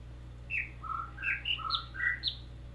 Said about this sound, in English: There's also another bird singing.